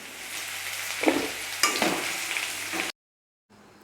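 Vegetables stir-fry in an iron kadhai over a high flame for veg biryani, hissing in a steady close sizzle broken by a few sharper scrapes as they are tossed, then cutting off abruptly before a brief return.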